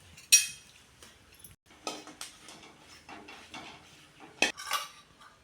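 Green chillies are stirred in a hot kadai on a gas stove, giving close, sporadic clatters and scrapes of a spoon against metal over a quiet background.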